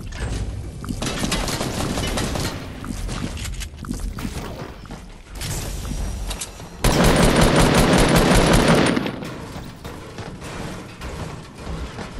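Rapid automatic gunfire in the Fortnite video game, with dense bursts that crackle on and off, then a louder sustained volley in the middle before trailing off into scattered shots.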